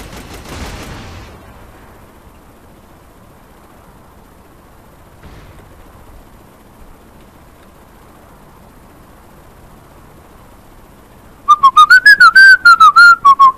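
A person whistles a wavering melodic tune over the soundtrack of Saints Row: The Third, a loud, close whistle that enters near the end after a long stretch of quiet game ambience.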